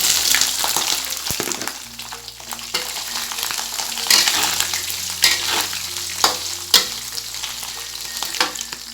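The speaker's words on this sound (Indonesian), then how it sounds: "Lalu kita goreng atinya ini setengah matang aja ya guys." Beef liver fries half-done in hot oil, a steady close sizzle and crackle with occasional stirring knocks and spatters throughout.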